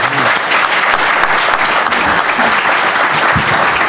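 An audience at a state housing development roundtable applauds the panel loudly and continuously. A thick crowd of clapping hands runs unbroken for about four seconds.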